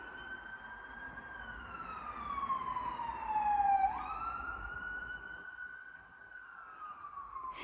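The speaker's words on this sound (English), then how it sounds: "sorry about the road noise" A siren wails in the distance, its tone sliding down then back up, over a faint hum of road traffic.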